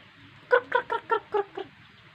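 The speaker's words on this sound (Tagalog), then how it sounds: "Ayan guys oh, Chinese chicken" A Chinese chicken gives a quick run of six clucks in an even rhythm, close and fairly clear against a quiet outdoor background.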